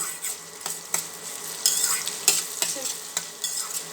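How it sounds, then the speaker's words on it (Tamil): Ingredients for a sundakkai vatha kuzhambu sauté in an oily pan with curry leaves. A spatula scrapes and taps in an uneven rhythm over a continuous bright sizzle, close up, with no voices. "நல்லா வதக்கிக்கோங்க அந்த பச்சை வாசனை போகணும்"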